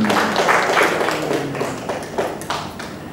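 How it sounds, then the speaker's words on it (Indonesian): An audience applauds at a formal presentation of audit results and awards at a government service office, a dense wash of clapping with scattered sharper hand claps, fairly loud and steady throughout. "tepuk tangan."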